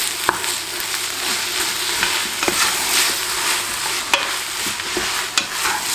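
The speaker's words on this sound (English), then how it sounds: "Just add that to the mix and then mix it nice and well." Chopped tomatoes, onions and oil being stirred in a pressure cooker, a loud close sizzle with repeated spoon scrapes and taps against the metal pot.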